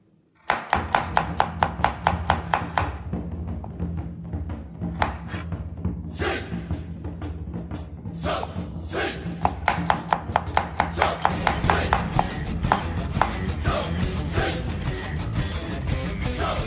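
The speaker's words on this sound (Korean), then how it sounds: "마늘하고 양송이 손질부터 하겠습니다" Garlic and button mushrooms being chopped with a knife on a cutting board, close and loud, in fast rhythmic runs of strikes with short pauses between bursts.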